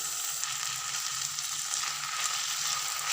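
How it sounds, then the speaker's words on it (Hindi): Two medium tomatoes, roughly chopped, fry in a pan for a restaurant-style methi malai paneer, making a loud, steady, close sizzle with no pauses and no voices. "अब इसको हम तब तक ही भूनेंगे जब तक ये टमाटर हमारे गल नहीं जाते हैं।"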